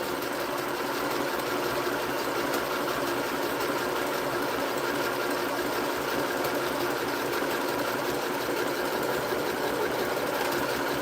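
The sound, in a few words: sewing machine running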